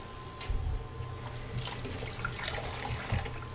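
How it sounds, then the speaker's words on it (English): Hands are rinsed under a running kitchen tap while spaghetti sauce is being made. The water splashes faintly and unevenly, with a few louder gushes as the hands move through the stream. "More hand rinsing."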